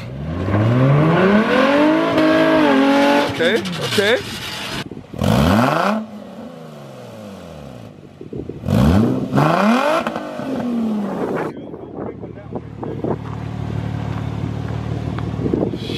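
An Infiniti G35 revs hard while spinning a single tire in a burnout, the engine rising and falling in repeated loud bursts up close, with brief talk between the pulls and a steady rumble underneath.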